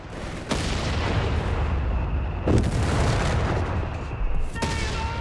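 Loud explosive blasts in Company of Heroes 3 as a StuG strikes engineers: sharp booming impacts at intervals over a constant rumbling wash of battlefield noise.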